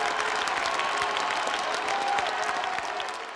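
A theatre audience gives long, dense applause for Thomas Bernhard, a continuous roar of many hands clapping at an even level from start to finish, fading slightly at the end.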